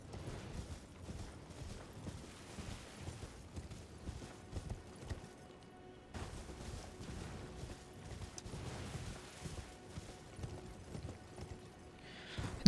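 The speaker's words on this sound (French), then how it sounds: "Puis on va invoquer le cheval, on ira plus vite." Hoofbeats from a galloping horse in the video game Elden Ring, a steady rapid clip-clop with soft mechanical creaks, quiet and continuous with no talking.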